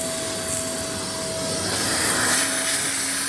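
Vacuum cleaner sucking dust out of holes drilled for ground anchors, a loud continuous whine with steady airflow roar, close and alone without talk.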